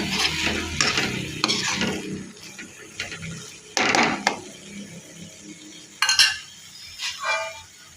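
Stirring a sharemen fish curry in a pan, with scraping and sizzling that comes in uneven bursts of spoon strokes, close and moderately loud with no talk.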